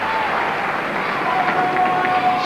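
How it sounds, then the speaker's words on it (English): A home crowd in Kitchener gives a sustained ovation at a 1980 junior men's curling championship, with loud, steady applause and cheering filling the arena and an announcer's voice faintly underneath. "he gets a big ovation from his crowd in Kitchener"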